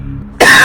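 A single sharp cough bursts out loud and close after a quiet moment, from someone in a room filling with smoke from a smouldering bed, with no speech alongside.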